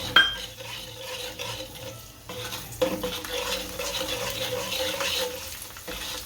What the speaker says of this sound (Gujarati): હવે લસણ નાખીશું આપણે, અને સાતળ લેશું લસણ